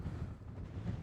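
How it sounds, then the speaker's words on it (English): Gusty wind of around 20 to 25 mph buffets a Nortent tent outdoors, producing a low, continuous rumbling roar that swells and eases slightly, with no voices. "It's a good solid 20 something mile an hour winds here."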